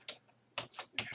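A file name typed on a computer keyboard: a few quick, light key clicks in short bursts, close and fairly quiet, with no talking.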